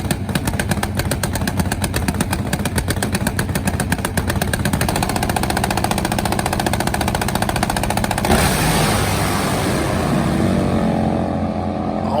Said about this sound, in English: One of the few supercharged Nitro Harleys in the world.